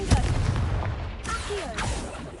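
A Confringo blast spell in Hogwarts Legacy, a sharp booming burst right at the start with a second blast following about a second later. Both are loud and close, and sit over a rumbling game backdrop.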